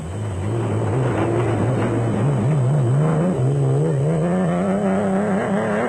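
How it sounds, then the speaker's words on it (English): An off-road race vehicle at the 2003 Sun City Off Road Race in South Africa, its engine droning and wavering in pitch with a rough, uneven note from a persistent misfire, loud and steady throughout with no talk. "The misfire persisted."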